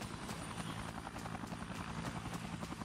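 A special forces helicopter in the video game Dead Rising thuds with rapid, regular rotor beats, close and steady throughout, with no voices over it.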